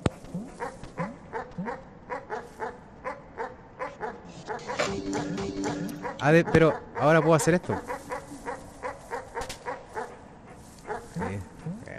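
A dog barks repeatedly in the video game Animal Well, quick yapping bursts that thicken into a dense cluster midway, while someone talks over it.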